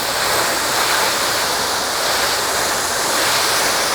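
Water rinses steadily off a ceramic-coated car surface, a loud, continuous broadband hiss that holds without a break.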